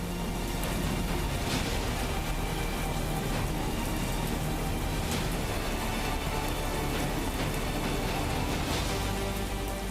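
Heavy monsoon rain pours down steadily over a Gujarat city, a dense, unbroken hiss of water on surfaces with faint knocks and passing traffic underneath, no voices.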